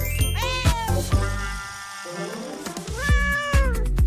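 A cat meows loudly several times close by, with brief tinkling sounds, during a grooming session with foam and a comb.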